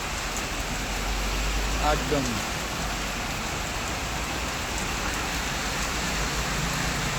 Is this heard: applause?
no